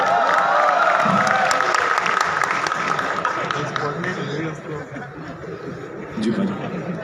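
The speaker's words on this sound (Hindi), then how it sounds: "भाई के लिए तालियां एक बार." A college festival audience claps for a guest on stage, loud dense applause mixed with chuckles and scattered cheers, the clapping thinning toward the end as voices and laughter carry through the crowd.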